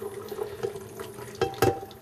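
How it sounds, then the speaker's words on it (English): Apple juice is poured through a colander, a soft wet splashing and trickling with a few louder sloshes toward the end, close by in a kitchen. "pouring into the colander, we're going to reserve the apple juice here"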